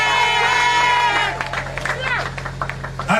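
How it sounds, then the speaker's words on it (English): A crowd at an outdoor political public meeting in St Vincent and the Grenadines cheers and claps, with amplified sound ringing over a steady hum and scattered shouts mixing in. "Give a round of applause for his wife too."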